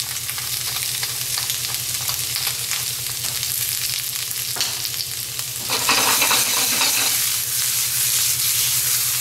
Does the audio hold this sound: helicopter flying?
no